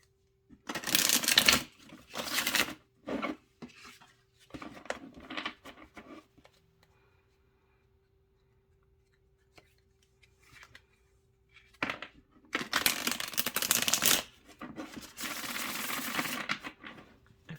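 A tarot card deck is shuffled by hand in loud riffling bursts, first several quick clusters, then a pause with near silence, then a longer sustained run of shuffling close to the microphone.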